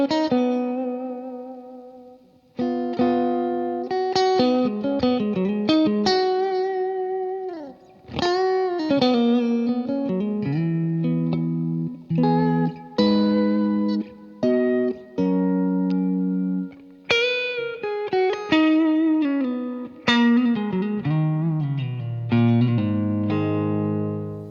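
Electric guitar through a Walrus Audio ACS1 with Capital Chambers reverb plays melodic phrases and chords drenched in spacious reverb, notes ringing out and blooming into a lush wash, loud and close.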